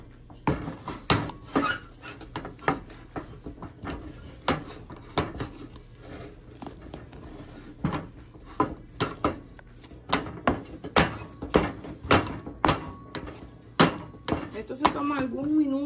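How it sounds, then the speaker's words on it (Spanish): Heavy churro flour dough is stirred in a pot, giving a steady run of close, sharp knocks and scrapes of the utensil against the metal, some light clatter between, with faint background noise. "Pero recuerde mezclar bien su harina hasta que se esté despegando del fondo solito."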